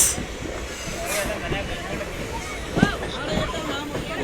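A passenger train pulls out of Koppal railway station, with a rumbling rolling noise, rail clatter and a brief squeal, heard from on board beneath a murmur of people talking.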